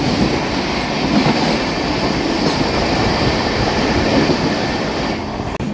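The new Amrit Bharat 2.0 Express, on its inaugural Thiruvananthapuram–Charlapalli run at about 130 km/h, roars steadily from inside with continuous loud rumble and rhythmic wheel clatter, without voices.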